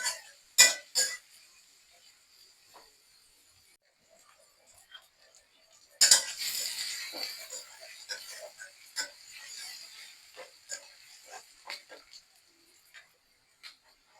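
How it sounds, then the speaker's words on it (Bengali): Chopped onions, about three, stirred together in a pan with garlic while cooking a Bengali lati fish jhura bhaji; faint scraping and clinking of a spoon against the pan comes in bursts, with two sharp knocks near the start and busier stirring afterward. "ভালো করে একসাথে নেড়ে দিব।"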